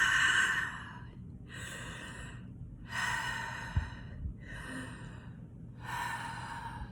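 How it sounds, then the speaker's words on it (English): Slow, deliberate breaths drawn in and pushed out through the mouth during a breathwork exercise, five long airy rushes separated by brief quiet gaps, close and clear. "hold it there for a couple of those breaths through the mouth"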